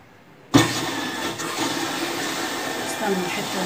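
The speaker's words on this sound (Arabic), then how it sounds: "المفروض هي كده هتسحب مية" A White Point washing machine starts drawing in water with a sudden onset, then a steady close rush of inflow and motor hum continuing evenly, with faint voices in the background.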